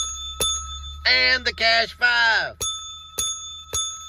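A small hand bell dings sharply four times to celebrate a Mega Millions lottery win, its bright ring lingering between strikes while someone speaks briefly in between.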